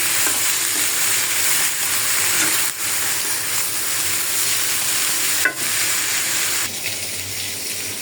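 Fish fries in hot oil with a dense, continuous sizzle and hiss, loud and close, holding steady throughout with a couple of brief dips and no voices.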